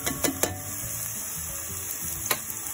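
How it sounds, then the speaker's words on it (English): Onions and garlic sautéing in a pan for pancit palabok, a steady sizzle broken by a few sharp clinks and scrapes of a utensil against the pan, no voices. "So as usual, I'm doing the saute, onions, garlic"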